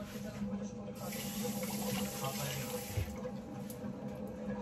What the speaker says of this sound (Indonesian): Timunnya tak cuci.